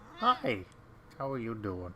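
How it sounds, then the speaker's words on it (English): A pet cat meows twice in quick succession, close by, with a person greeting it over the calls. "That's my cat."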